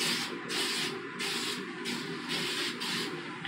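A disinfectant spray is sprayed around a shower in repeated bursts, about six hissing pulses at a steady rhythm, close and fairly loud, with no talking.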